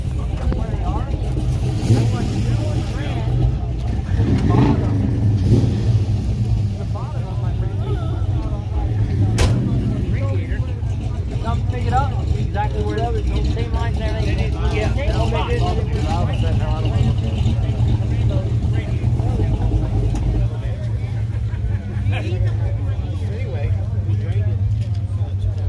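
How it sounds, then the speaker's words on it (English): A twin-turbo LS V8 swapped into a Lincoln idles with a steady, loud low rumble at a car show cruise night, under constant crowd chatter and nearby voices. "got a LS in the Lincoln. Twin turbo."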